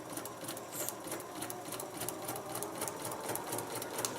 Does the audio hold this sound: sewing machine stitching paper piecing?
yes